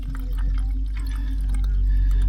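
Weak water flow from a motorhome tap, a thin, steady trickle and splatter close by over a low background hum, with faint drip-like ticks scattered through.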